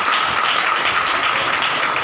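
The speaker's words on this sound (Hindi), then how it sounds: "ताली बजा के प्रभु के नाम पे" An audience at a Hindi Bible study gathering applauds in praise of the Lord, a dense, steady burst of clapping that holds at an even level for about two seconds.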